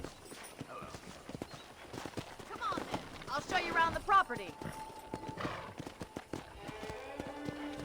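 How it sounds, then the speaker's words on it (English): Horse hooves clip-clop in Red Dead Redemption on PC, a rhythmic trot under a man's speech with a whinny midway, game music tones entering toward the end. "let's see if you can still ride a horse"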